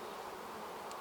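Honey bees buzz around a beehive in a brief, faint, steady drone with no other sounds.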